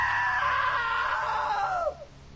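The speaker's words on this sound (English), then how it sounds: "Now that was a great scream." A long, loud scream rings out in the video game What Remains of Edith Finch, held steady and then falling off sharply near the end.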